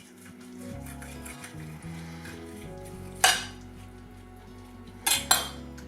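A knife cuts through the crispy skin of a turkey crown cooked on a kamado grill, giving two sharp, close crunchy crackles over a low, steady background hum.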